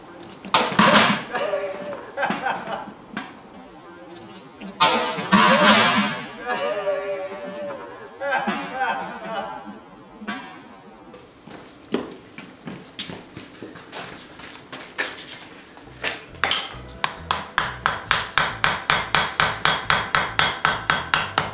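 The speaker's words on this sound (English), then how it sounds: "I'm gonna place the body on top of it, and hopefully I can weld it together and we get a completed axe." Hammer blows on an anvil while forge welding the body and blade of a traditional Swedish hewing axe, loud and close; irregular heavy strikes give way to a fast, steady run of ringing blows near the end.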